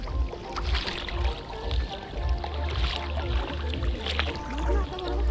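Kayak paddling on the water at Khavane beach in Malvan, with steady rhythmic paddle strokes and splashing close by, mixed with people talking throughout.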